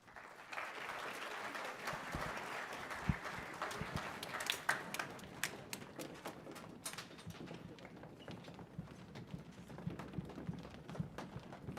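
An audience at a fifth-grade band concert applauding, a continuous patter of many hands clapping that fades gradually into scattered, sparser claps toward the end.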